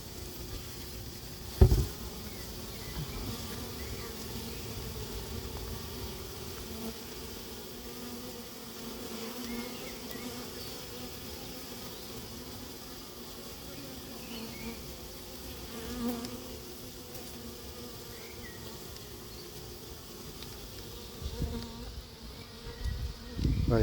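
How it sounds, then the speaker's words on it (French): A honeybee swarm drones steadily near the end of its recovery from a treetop six to eight metres up, a continuous soft buzz with small knocks and rustles throughout. "c'était fin de la récupération de l'essaim qui était en haut de l'arbre"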